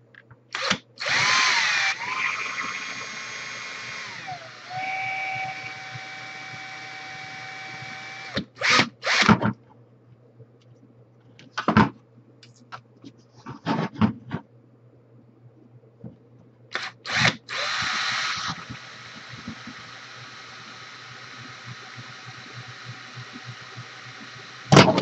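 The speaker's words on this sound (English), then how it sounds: "I don't like to drill these holes at full speed. If you do, there's the potential to melt the plastic." An electric drill bores holes through an Atari 7800 plastic case in bursts of steady whine at reduced speed, alternating with short clicks and handling clatter; no talking.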